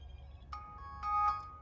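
Phone ringtone for an incoming call, a short bright electronic chime of a few tones, fairly faint and heard alone.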